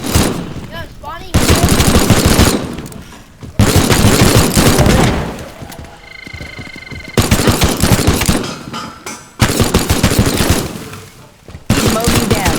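A robot's machine gun in the Teardown video game fires in several long, loud automatic bursts separated by short pauses, each burst a fast hammering rattle.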